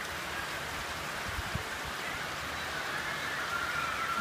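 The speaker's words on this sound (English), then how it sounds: "It's all of a sudden started raining and thundering." Steady rain falling in North Salt Lake, a continuous broadband hiss of drops throughout, fairly close, with no talking.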